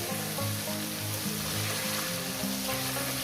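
Paneer frying and being gently stirred in a hot pan of oil, with a steady, dense sizzle close up and faint low rumbling underneath, no voices.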